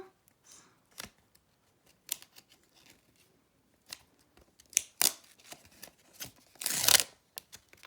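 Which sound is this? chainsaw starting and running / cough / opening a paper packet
opening a paper packet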